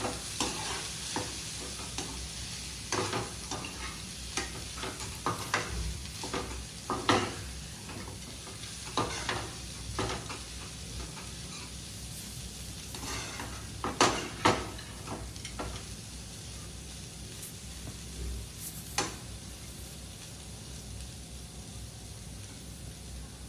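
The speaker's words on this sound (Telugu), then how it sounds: "పనగంటాకు కందిపప్పుని రెండు బాగా వేసి బాగా నీట్గా మిక్స్ చేసుకోవాలి" Panaganti leaves and cooked toor dal are stirred together in a frying pan. A soft, continuous sizzle runs beneath repeated scraping and tapping of a spatula against the metal, some strokes louder than others.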